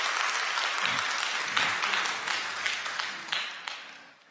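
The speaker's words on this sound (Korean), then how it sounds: "여러분들 환영의 박수 부탁드립니다" A church congregation at a Sunday service applauds to welcome back a member, a dense wash of many hands clapping at moderate distance that gradually thins and fades out at the end.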